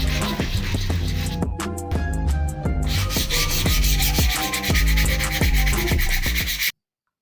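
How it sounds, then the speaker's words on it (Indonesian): Sandpaper is rubbed hard against a flashlight casing made from an old microphone, giving a continuous close scraping with rapid back-and-forth strokes that ends abruptly. "Terus casingnya diamplas sampai herang."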